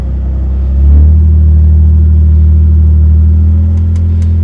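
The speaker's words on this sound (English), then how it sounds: "I'm going to be on the gas a little bit as I winch the line" Jeep engine under light throttle in two-wheel drive while winching itself out of sand, a loud, close, steady low rumble that swells slightly and then holds.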